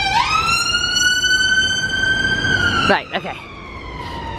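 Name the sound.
siren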